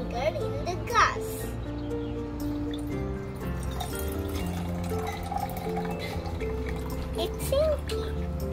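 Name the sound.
vinegar being poured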